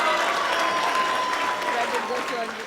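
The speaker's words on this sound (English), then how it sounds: "Give him a big round of applause what he did." Sustained applause from the guests at a wedding reception, honouring the groom, a dense burst of clapping that holds steady and then begins to taper off, with a voice faintly heard underneath.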